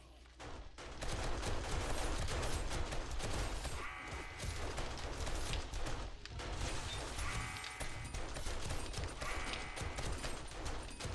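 Turrets in the zombie survival game 7 Days to Die fire in sustained, dense bursts of automatic gunfire lasting throughout, loud and continuous with brief dips in intensity and clattering mechanical impacts mixed in.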